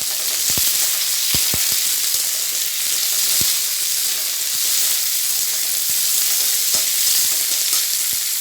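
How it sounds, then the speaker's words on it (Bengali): Bitter gourd frying in hot oil gives a loud, steady sizzle and hiss, with repeated spatula knocks and scrapes against the pan as it is stirred, close and with no talk. "উচ্ছেটা দিয়ে নাড়িয়ে চালিয়ে"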